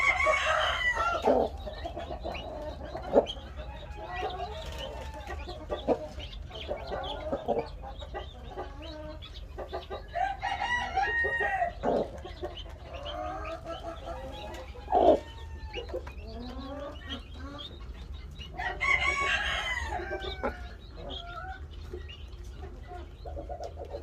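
Chickens cluck and a rooster crows on a poultry farm, with repeated squawks and calls at moderate distance and a steady low background hum throughout.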